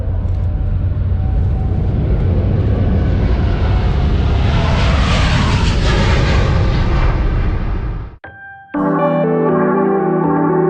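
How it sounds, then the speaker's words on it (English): Jet aircraft flying a display at Farnborough Airshow, a loud roaring pass whose rush rises and falls over several seconds, then abruptly cut to a tonal chime-like sound. "This is a very, very impressive aircraft with an awful lot of thrust available and a wonderful display that we're about to see."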